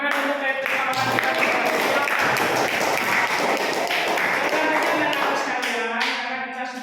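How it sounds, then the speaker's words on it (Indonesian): A classroom of students applauding together, brisk close clapping that swells quickly and keeps a steady rush before tapering at the end. "Baik, kita tepuk tangan untuk teman-teman kita."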